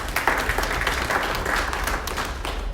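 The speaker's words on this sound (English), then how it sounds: "Give them a big round of applause." Audience at an NCC Education launching event applauds the teachers, a dense, steady round of clapping from a full room with no voices over it.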